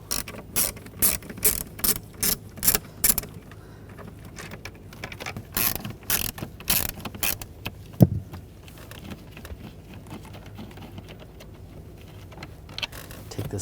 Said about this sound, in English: I'm going to use a T20 socket, take the screws out on the sides